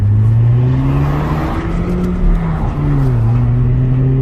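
A 2019 Honda Civic Sport with a muffler delete drones loudly at high RPM, its deep raspy exhaust steady with slight pitch wavers, heard close from inside the car with no talking.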